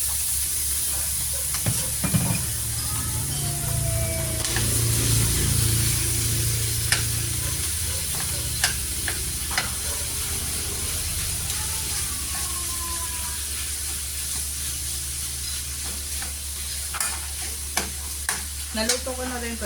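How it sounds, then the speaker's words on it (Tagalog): Bacon frying in a pan, a steady close hiss and crackle with scattered sharp pops and a few scraping clicks, no voices heard. "Lagyan natin ng bacon."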